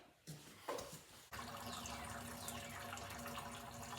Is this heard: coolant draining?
yes